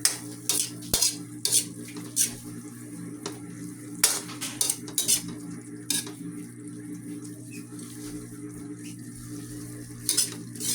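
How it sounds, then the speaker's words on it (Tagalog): Alugbati (Malabar spinach) sautés in a pan, a steady low sizzle broken up by sharp clinks and scrapes of a utensil on metal as it is stirred, close and moderately loud with no talk. "Ginisa ko na ang alokbati."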